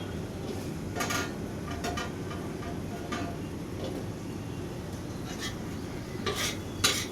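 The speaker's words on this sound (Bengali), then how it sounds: "এবার এটাকে ভালো করে মশলার সাথে মাখিয়ে নেবো, নেড়ে চেড়ে।" Potatoes being stirred with spices in a pan, soft low frying hiss under repeated scraping and clinking of a utensil against the pan, fairly quiet.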